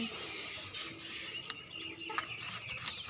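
Farm and tiger chickens kept in a rooftop garden cluck softly and intermittently at a modest distance, with a few sharper calls over faint background noise and no talking.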